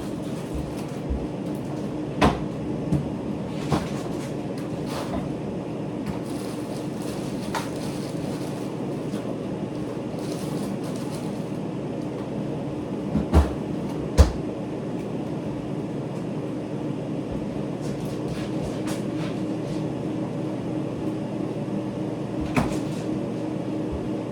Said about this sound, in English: Let me get these in the freezer.